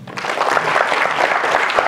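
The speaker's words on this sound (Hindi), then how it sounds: "तालियां बजाओ" Students in an interactive session with freshers at an institute break into brief, dense applause, a loud even patter lasting under two seconds.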